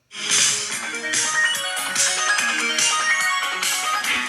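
A Fairlight synthesizer playing a pre-installed arpeggiated preset: a bright, rapid pattern of repeating plucked-sounding synth notes stepping up and down over a sustained tone, steady and continuous at moderate volume.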